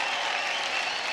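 A large studio audience applauds loudly for a singer on a singing competition stage, a dense, continuous roar of clapping with no pauses.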